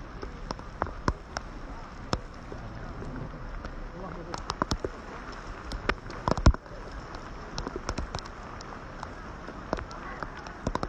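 Rain falling at the Kaaba, a steady soft wash of drops with scattered sharper taps and clicks across the whole stretch, with background murmur throughout.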